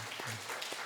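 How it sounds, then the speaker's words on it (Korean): A church congregation at a Sunday morning service on Children's Sunday claps for the children in one brief, steady burst of applause from a full room. "우리 아이들을 격려하는 축복하는 마음으로 박수로"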